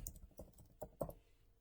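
Quiet keystrokes on a computer keyboard, a short burst of about five clicks with uneven spacing, heard close and alone.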